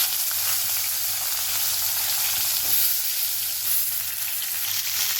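Brinjal pieces fry in hot oil with mustard seeds, chana dal and a little asafoetida, giving a steady, loud, even sizzle and hiss that continues throughout without any voices.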